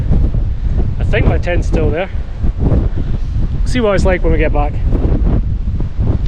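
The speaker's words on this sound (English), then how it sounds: "the wind is still horrendous" Strong wind roars across the microphone high on Beinn Ghlas, a loud, continuous buffeting rumble that persists throughout while someone speaks over it.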